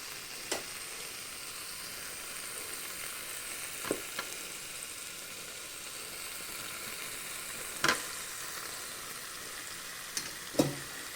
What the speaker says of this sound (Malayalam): എല്ലാ ചോറും നമുക്ക് ഇട്ടെടുക്കാം കൊടുക്കാം ചോറൊക്കെ ഇട്ട് കൊടുത്ത് നമുക്കിത് ഇത് നന്നായിട്ടൊന്ന് മിക്സ് ചെയ്യാം